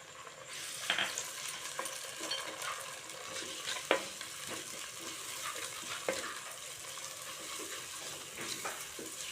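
Onions sautéing in a pan, a continuous close sizzle broken by scraping stirs and occasional sharper clicks of a utensil against the pan.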